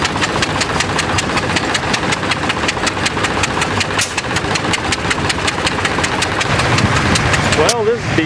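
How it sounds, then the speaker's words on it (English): An old Titan tractor engine chugs loudly with a fast, steady rhythmic pulse as it revs, running close by, while someone talks over it. "Big Titan getting revved up, ready to go."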